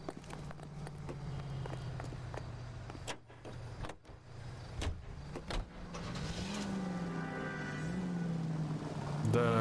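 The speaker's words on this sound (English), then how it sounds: "The driving is much different than Mafia 3. Very sensitive." Car driving in the crime video game L.A. Noire, a steady engine drone running through the whole stretch with a few sharp clicks and thumps, rising in level toward the end as the car picks up speed.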